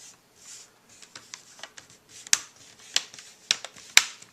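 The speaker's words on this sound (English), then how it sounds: "You hear all the snaps clicking in place." A Toshiba S55 laptop screen bezel is pressed back into place, giving a series of sharp plastic snaps and clicks in irregular rhythm, close and clear with no talking.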